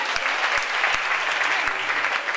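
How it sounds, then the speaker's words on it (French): A church congregation applauding together, a dense burst of clapping with a few sharper, nearby claps standing out. "acclame le Seigneur Jésus"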